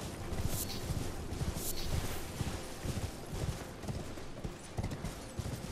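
Horse hooves galloping in the video game Elden Ring: Shadow of the Erdtree, a fast, steady clatter of hoofbeats at close range and moderate volume.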